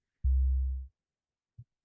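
AI-generated synth bass tone with a slightly acoustic character: one deep, smooth sustained note lasting about half a second, then a brief soft low blip, clean and alone against silence.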